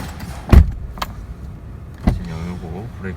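A sharp thud of a Genesis car door shutting near the middle, with a softer knock just before it and a faint mechanical whir afterward.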